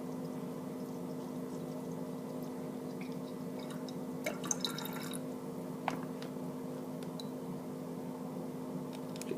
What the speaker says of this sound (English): Pour it straight in.